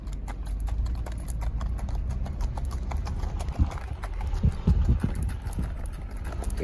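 Horse hooves clop steadily on hard ground in an even four-beat rhythm, continuous and moderately close, with a few heavier thuds near the end.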